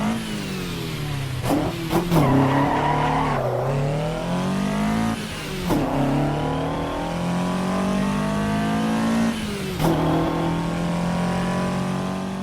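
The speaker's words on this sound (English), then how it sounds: "It's got that nice Toyota twin cam sound, but it doesn't sound like a Formula car like the other one does." A Toyota 8086 twin cam engine in a racing video game revs repeatedly, climbing and dropping in sharp bursts with short gear-change dips, loud and up front with no talking.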